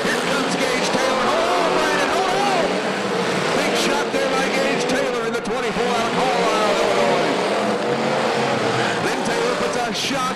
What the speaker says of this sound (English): He's trying to get his old Mercury fired.